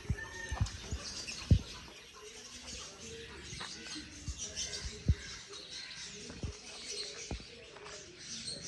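Faint bird chirps and twitters scattered in the background of a small home garden sit-out, with occasional soft taps and knocks nearby in a quiet setting.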